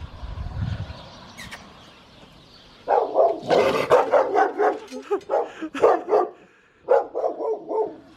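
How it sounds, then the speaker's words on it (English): A guard dog barks in a rapid, loud burst of close, sharp woofs and yips after a moment of quiet. "We'll test Max, see if he's still a guard dog."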